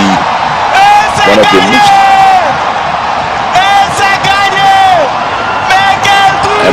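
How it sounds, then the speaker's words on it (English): Home crowd at an athletics stadium in Ghana during the African Games, loud sustained roaring and chanting with whoops, while a commentator talks over it throughout. "you will have the home crowd chant"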